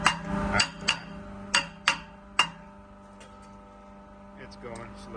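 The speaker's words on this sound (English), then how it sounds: "I'm going to work on getting this pulley off" Sharp metallic hammer strikes, about five in quick irregular succession, on a pulley being removed from a burned-out 15HP air handling unit motor, over a steady low mains hum, then fading to quieter tapping.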